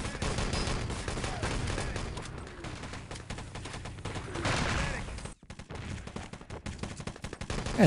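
Mortar shells landing on the player in Wolfenstein: Enemy Territory, dense bursts of gunfire and explosions filling the scene, with a brief drop to near silence before the firing resumes and a voice speaking over it.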